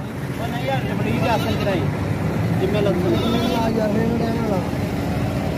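Several wavering goat bleats rise over a constant engine drone as goats are handled at a cargo vehicle in Pakistan, mixed with people talking nearby.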